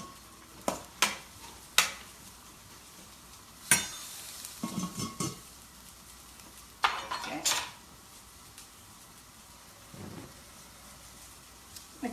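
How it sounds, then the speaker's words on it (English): Intermittent stirring of food frying in a pan for turkey and butternut squash sliders, with several sharp utensil scrapes and clinks against the pan over a faint sizzle, in short separated bursts. "I'm going to give it a little stir"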